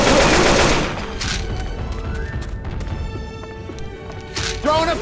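Gunfire in the Left 4 Dead 2 Parish campaign, with bursts of shots and impacts throughout, a louder flurry at the start and end, and a voice speaking over the action.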